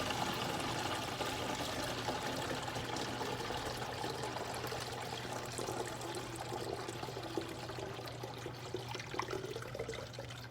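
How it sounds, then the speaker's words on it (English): Rice water pours steadily through a funnel into a jug, a continuous gurgling trickle with a low hum underneath, fairly quiet and unbroken. "pour the water inside of the container like this"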